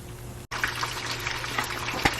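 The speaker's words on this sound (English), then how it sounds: "you see how the water's already kind of getting bubbles" Water in a pot heating for pasta makes a soft, bubbling, liquid murmur that continues steadily after a brief cut, with a light clink near the end.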